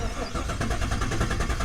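Whipple-supercharged LT1 engine cranking over to prime the oil pump before an oil change, a rapid rhythmic starter churn that stays close and loud throughout without catching.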